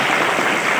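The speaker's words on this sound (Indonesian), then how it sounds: "Ayo tepuk tangan memberi semangat." A short, dense burst of clapping from a gathered audience at an Islamic school event in Pati, encouraging two people to stand and present, steady and loud from start to finish.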